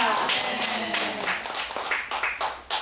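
A Korean church congregation breaks into clapping during a sermon, a burst of overlapping hand claps that thins into scattered claps, with voices underneath.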